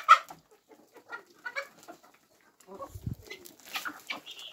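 Domestic hens cluck in a yard in short, scattered bursts, close and fairly quiet, with brief pauses between calls and a low thump partway through.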